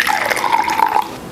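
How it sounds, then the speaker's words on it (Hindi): Coloured water poured into a measuring cup, a short close splashing trickle lasting about a second before it tapers off. "ये एक मेजरिंग कप है, इसके अंदर मैं डाल के दिखाती हूँ"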